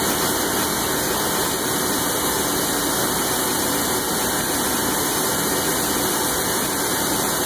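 A machine cuts a part for a threaded T-mount, a loud, continuous whirring grind with a steady motor tone and dense noisy hiss that holds unchanged throughout.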